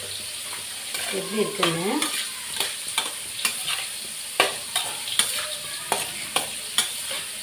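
A spoon scrapes and stirs lemon rice in a frying pan in irregular, close knocks over a soft sizzle, while a voice briefly speaks near the start.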